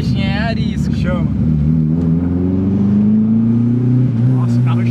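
A naturally aspirated Chevrolet Monza engine pulls hard from inside the car, its note climbing steadily and gradually in pitch over several seconds. The tone stays loud and continuous, with people briefly talking at the start.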